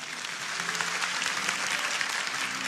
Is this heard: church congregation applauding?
yes